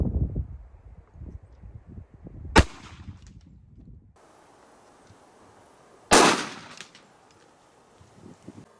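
A .45 ACP pistol fires into a test block, giving two sharp, loud gunshots a few seconds apart, each followed by a brief ringing decay, with quiet handling noises around them.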